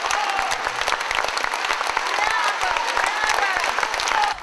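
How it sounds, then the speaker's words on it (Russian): Prolonged applause from a full concert hall after a performance in Sochi, dense and continuous for the whole stretch, with a voice speaking over the clapping. "оркестровая группа то и дело встает поблагодарить публику за продолжительные аплодисменты."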